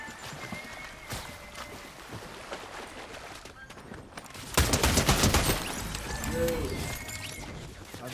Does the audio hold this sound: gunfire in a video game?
yes